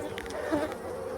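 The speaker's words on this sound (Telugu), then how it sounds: "ఈగలు." Honey bees hum and buzz inside a hollow in a village tree, a close, continuous insect drone with a few louder passes, alone without talk.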